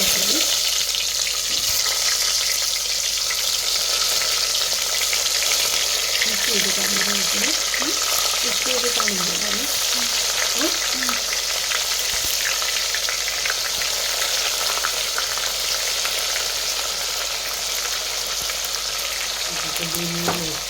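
Tomatoes sizzle and crackle steadily in hot oil, a constant close frying hiss that lasts throughout.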